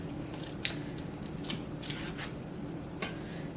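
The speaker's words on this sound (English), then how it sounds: "I'm just going to cut some pats and place them in the bottom of the casserole dish." Pats being sliced from a stick of butter with a knife, a few short soft cuts and taps heard close up over a faint steady background hum.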